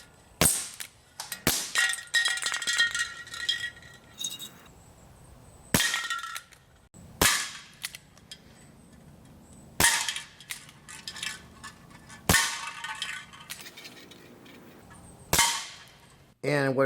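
A Barra Schofield No.3 CO2 BB revolver fires several sharp reports at a soda can, each crack followed by a short metallic ring, spaced a few seconds apart with quieter handling noise in between.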